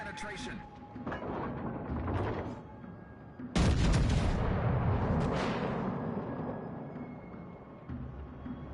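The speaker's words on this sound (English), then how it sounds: "Bring all my guns to bear now." Warship guns fire in the video game World of Warships Legends, a heavy booming salvo erupting partway through with rolling rumble after, preceded by lighter shots, while a player talks over the battle.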